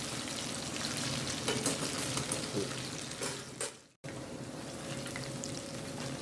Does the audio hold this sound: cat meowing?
no